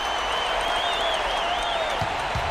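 An arena crowd in a basketball video game set in Salt Lake City applauds steadily and loudly, with a whistling tone sliding above the clapping throughout.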